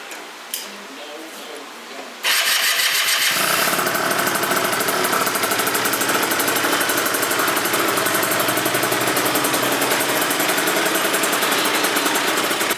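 A Phantom F12 scooter with a 70cc engine build, quiet at first, then catches and settles into a loud, steady, rapid idle that runs on evenly.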